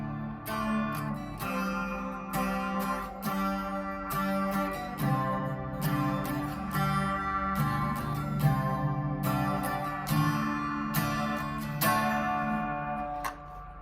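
Clean electric guitar picks a gentle arpeggiated chord pattern from the acoustic intro of a song, strings ringing together in a steady, moderate flow without any voices.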